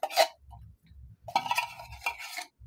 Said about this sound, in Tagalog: So, haluin muna natin guys.